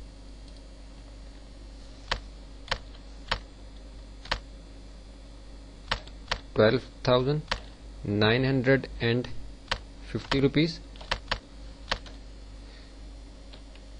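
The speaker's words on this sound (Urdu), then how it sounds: "تو اس کے جو ٹیکسٹ ہے اس کو ہم یہاں ٹائپ کر لیتے ہیں" Keys on a computer keyboard are struck in sparse, irregular single clicks and short clusters, close and crisp, while someone speaks in between.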